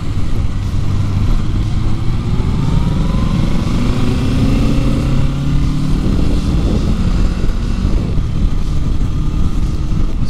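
Kawasaki Z650 motorcycle cruising on the road, with a loud steady engine drone and the pitch gliding up and down as the rider works through the gears, under heavy wind noise and with no talk.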